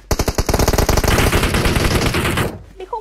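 Automatic gunfire rattles in a loud, rapid burst lasting about two and a half seconds, fired by a player leaning out of a vehicle in PUBG Mobile, then breaks off abruptly.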